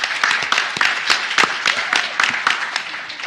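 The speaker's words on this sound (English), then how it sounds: "And they're here and they're cheering." An audience at a policy forum plenary session claps and cheers, a dense continuous patter of many hands with raised voices mixed in, loud and steady throughout.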